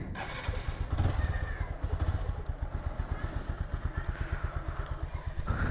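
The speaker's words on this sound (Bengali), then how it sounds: "এখন বাইকটা স্টার্ট দেই।" An Apache RTR 160 4V motorcycle engine starts up and settles into a steady, close, thumping idle that runs for several seconds with no talk.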